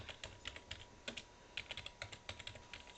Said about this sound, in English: We'll type in broccoli